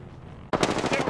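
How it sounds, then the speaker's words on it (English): Automatic gunfire in the video game Apex Legends bursts in suddenly after a quiet half-second, a rapid run of loud, closely spaced shots. "Getting shot at."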